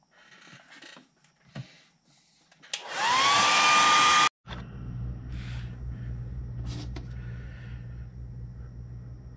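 A hair dryer roars loudly for about a second and a half while drying paint on a shad fishing lure, then cuts off abruptly, leaving a steady low hum and a few faint clicks and knocks around it.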